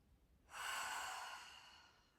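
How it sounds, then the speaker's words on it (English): A single slow, deep breath is drawn during a gentle bed yoga session for rehabilitation, a soft airy exhale that swells and fades, close and quiet with no talk. "breathing in, breathing out"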